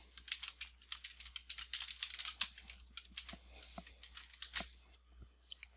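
Typing on a computer keyboard to enter a title, a steady run of light, quick key clicks with brief pauses, fairly close and moderately quiet, with no talking.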